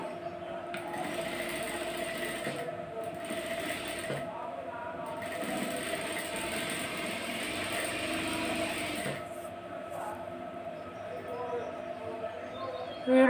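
A sewing machine stitches a double seam on a plain blouse, its rapid mechanical clatter running in bursts that stop and start, close by and fairly quiet, with faint background sounds between runs.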